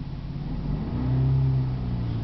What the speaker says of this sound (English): the car has been running this whole time